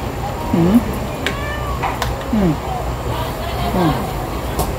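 Several cats meow in turn in Baguio City, three or four distinct calls spaced a second or so apart, with people talking quietly in the background.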